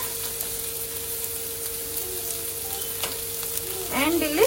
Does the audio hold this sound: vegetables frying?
yes